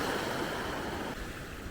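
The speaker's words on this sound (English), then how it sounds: "The waves are so huge, really big." Large ocean waves roll onto a nearly empty beach on Nusa Penida as the tide comes in, making a continuous, close wash of surf with no talk.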